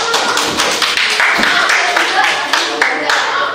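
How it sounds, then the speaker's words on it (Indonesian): A class of students claps hands in a classroom in a brief, uneven burst of sharp claps, close by, with some chatter underneath. "Tepuk tangan buat Eva."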